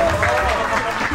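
Applause from an audience at a live event, a dense crackling wash of clapping throughout with talking mixed in underneath.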